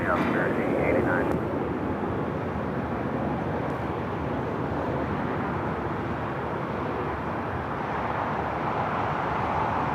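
A jet airliner takes off from runway 25 right at LAX, a constant rumbling engine roar heard from a distance, dense and steady throughout, with a brief higher tone at the start.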